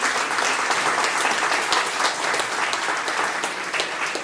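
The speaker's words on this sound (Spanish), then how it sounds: "Si le va a dar palmas, denle palmas al Señor" A congregation claps throughout a church service, a steady, dense wash of hand claps filling the room with no break, loud and close.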